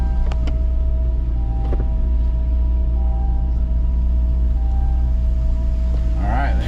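An 8.1L big block engine in a C8 Corvette idles with a steady deep rumble, loud and constant, while a few clicks and a brief whirring sound occur nearby.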